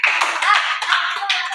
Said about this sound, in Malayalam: ക്ലാപ്പ് ചെയ്യ് കുട്ടികളെ